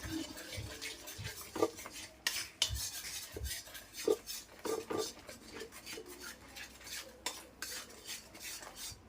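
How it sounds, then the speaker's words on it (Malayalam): Metal utensil scraping and clinking against a pan in repeated strokes as egg is scrambled, with faint sizzling underneath; no voices. "ഞാനിപ്പോൾ ഇന്നിവിടെ മുട്ടയാണ് കുത്തിപ്പൊരിക്കുന്നത്"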